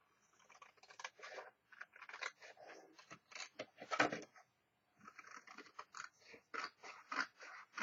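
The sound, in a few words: cutting something off, likely with scissors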